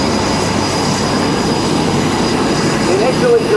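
A P-51 Mustang with a Rolls-Royce Merlin V12 engine at an air show, a steady loud drone of engine roar with a faint rising whine near the end.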